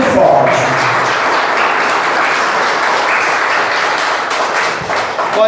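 A church congregation claps loudly and continuously in praise, a dense, sustained wave of many hands filling the room for several seconds without a break.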